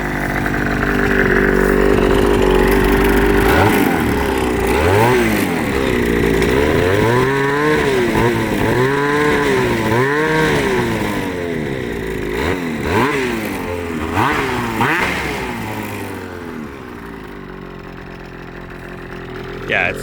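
A 2020 Ski-Doo Summit 154 snowmobile engine runs with the track spinning, loud and close, its pitch rising and falling in repeated revs before settling back toward idle, with a voice talking over it.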